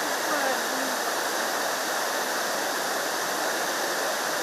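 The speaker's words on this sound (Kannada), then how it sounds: "ಕೊಡಗಿನ ನಯಾಗರ ಜಲಧಾರೆ ಎಂದು ಹೆಸರಾಗಿರುವ ಚಿಕ್ಲಿ ಹೊಳೆ ಜಲಾಶಯದ ದೃಶ್ಯ" Water thunders over the spillway of Chikli Hole dam in Kodagu, swollen after three days of rain, making a steady, dense roar that holds at the same loudness throughout with no let-up.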